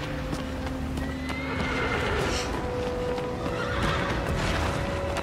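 Horse neighing and whinnying with clip-clopping hooves in the video game Shadow of the Colossus, loud and close over a steady game ambience, with repeated whinnies across the span.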